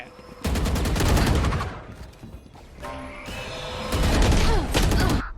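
Gunfire in a video game rattles out in loud, rapid automatic bursts, three main volleys separated by brief lulls filled with mechanical clatter.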